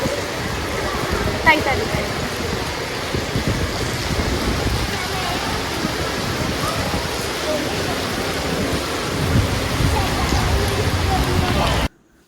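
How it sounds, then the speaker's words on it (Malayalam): Steady, dense rain pours down in a constant loud hiss with no break, continuing until it cuts off at the very end. "പുറത്ത് ഭയങ്കരമായിട്ടുള്ള മഴയാണ്"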